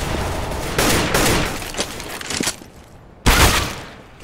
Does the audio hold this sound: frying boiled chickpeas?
no